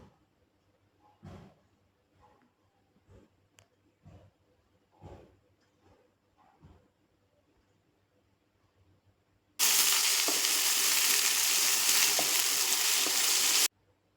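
Chopped pumpkin leaves stirred with salt and turmeric in a pan, heard as scattered soft scrapes and knocks, then a loud, steady hiss of frying for several seconds before it cuts off.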